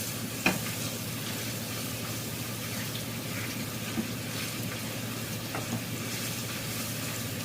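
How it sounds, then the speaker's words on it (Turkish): Onion frying in a pan, seasoned with black pepper and salt, gives a steady dense sizzle throughout, with an occasional scrape or tap from stirring and no talking. "Güzel soğanı kavurduk"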